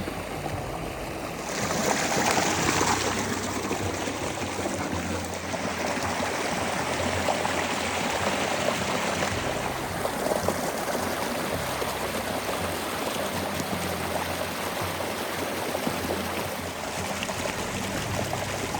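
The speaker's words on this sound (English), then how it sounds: "The creek still flows strong" Creek water rushes and babbles steadily nearby, a continuous broad wash of sound with no voices.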